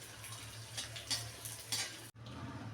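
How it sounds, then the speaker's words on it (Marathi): Edible gum (dink) frying in a pan for winter urad dal laddoos, a steady close sizzle with brief stirring scrapes, cut off abruptly for a moment near the end before resuming. "असं सर्व डिंक मी तळून घेते"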